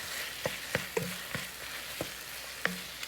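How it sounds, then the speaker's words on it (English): Okra sizzling in a frying pan with a steady hiss, broken by about half a dozen sharp utensil scrapes and clicks as it is stirred, close and fairly quiet. "So I'm going to stir this up."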